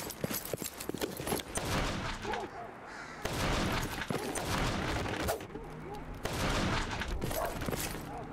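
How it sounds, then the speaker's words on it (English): Bursts of gunfire crackle through a Stalker: Shadow of Chernobyl game scene, dense volleys coming and going in clusters over several seconds with steady background noise between them. "Random gunshots in the background are kind of nice,"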